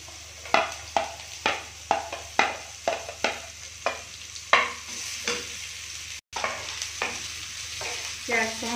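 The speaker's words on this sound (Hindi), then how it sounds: "प्याज को हम फ्राई कर लेंगे" Onions frying in a pan with cardamom and bay leaves for malai soya chaap, a steady close sizzle punctuated by regular rhythmic scrapes of a spatula stirring, with no voices.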